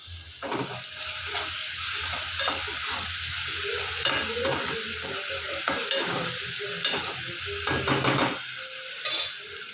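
Tomatoes cook in a pan with salt added for Indian fodnicha rice, giving a steady sizzle with repeated scraping stir strokes from a spoon throughout, close and continuous.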